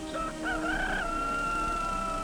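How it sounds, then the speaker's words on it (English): A rooster crows once, a clear drawn-out call rising then fading, heard alone over faint background hum. "A rooster crows."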